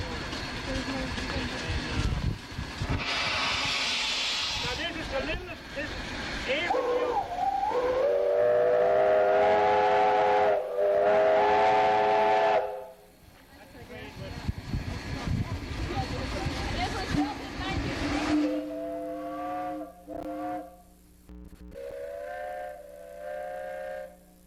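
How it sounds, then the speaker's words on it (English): A Belgian locomotive steam whistle blows in several separate blasts, loud harmonic chords with bursts of hissing steam between them. People talk over parts of the sequence. "Locomotive steam whistle in Belgium."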